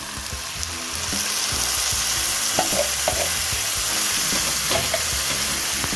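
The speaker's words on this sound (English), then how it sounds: "our chickpeas have been cooking literally for about a minute and a half. At this point, I'm going to add our tomato product" Chickpeas sizzle steadily in a hot pan as tomato product is added, a continuous loud frying hiss with scattered spoon scrapes and stirring clicks.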